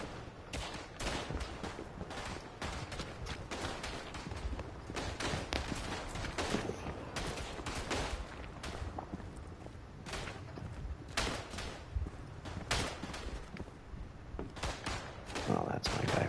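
Rapid gunfire from soldiers clearing trenches on the Western Front in a war video game: dense, continuous crackling shots and distant bursts layered over a busy battle din, with a voice talking throughout.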